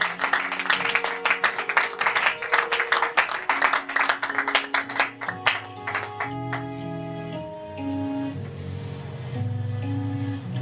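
A church congregation claps in quick, loud rhythmic bursts for several seconds, then the clapping fades into sustained organ-like music and voices.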